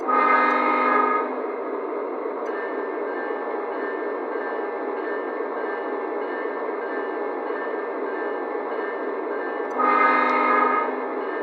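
A Lionel U30C model train runs steadily with a continuous mechanical hum, its horn blaring loudly at the start and again near the end.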